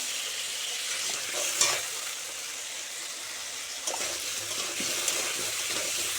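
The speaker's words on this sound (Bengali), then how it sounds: "আলুটা ভালো করে ভেজে নেব" Potato pieces frying in hot oil with salt and turmeric, a bright close sizzle with spatula stirring and scraping strokes, including a few sharper clacks against the pan.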